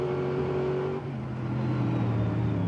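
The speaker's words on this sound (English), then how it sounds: "And just have a listen to the throttle control as well." Onboard sound from a GT race car at Sandown circuit, its engine droning loudly and steadily as the driver modulates the throttle, the pitch dipping briefly then climbing again.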